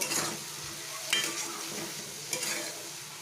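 A spoon stirs vegetarian dal with salt added in a pan, soft scraping and gentle sizzle running through, with a couple of sharper scrapes against the pan. Close and fairly quiet, with no talking.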